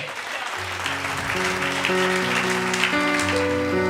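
A congregation applauds at a church grace message, with steady clapping that swells and continues under sustained keyboard or organ tones.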